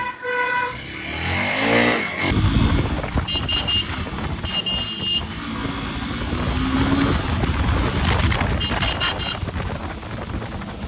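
A Hero Xpulse 200 4V motorcycle on a test ride, its engine note climbing as it accelerates, then holding a loud, steady drone with wind rush and another brief rise in pitch.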